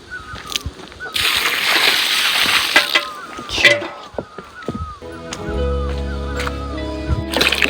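Water is scooped and splashed in a bucket at a remote mountain home, with irregular close sloshes and splatters. Birds chirp in the background, and a steady low hum sets in toward the end.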